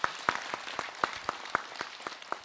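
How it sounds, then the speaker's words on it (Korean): Scattered applause from a small audience at a Buddhist monk's talk show, with sparse, distinct claps in an uneven rhythm, fairly faint and with no voices over it. "박수 하나 주세요."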